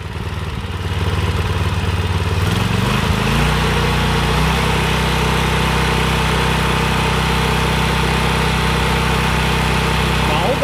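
A Mitsubishi water pump engine runs loudly through a throttle test. Its clattering idle climbs in pitch after a couple of seconds, then holds a steady, higher hum.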